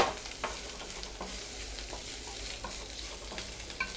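Onions and curry leaves sauté in hot oil for a zucchini raita tempering, a steady soft sizzle with occasional stirring scrapes of the spoon in the pan, no voices.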